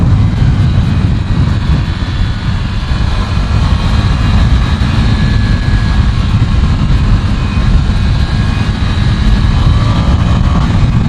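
A Ducati Scrambler Desert Sled with its 803cc engine being ridden, giving a steady, unbroken engine drone mixed with heavy wind rush that holds an even level throughout.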